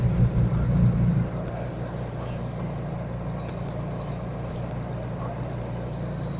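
A Chevrolet S10 Blazer engine idles with a low steady rumble, a bit louder at first and then settling into an even, continuous drone with no speech.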